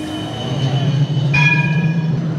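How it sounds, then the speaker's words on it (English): A tram in Amsterdam rumbles past nearby with a low steady drone, faint metallic wheel squeal and a brief high whine rising over the noise. "There's another tram."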